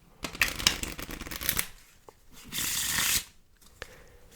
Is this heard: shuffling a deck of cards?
yes